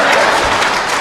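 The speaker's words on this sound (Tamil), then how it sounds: "அதை ஒருத்தர் கைத்தட்டுறாரு, அனுபவிச்சு ருசிச்சு." A brief, dense burst of applause from an audience, a loud and continuous wash of clapping that fills the whole moment.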